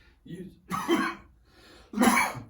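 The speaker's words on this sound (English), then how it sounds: "Choking on my spit." Two loud, harsh coughing bursts from choking on spit, with a smaller choking cough in between, close to the listener, with brief gasps and throat noise around them.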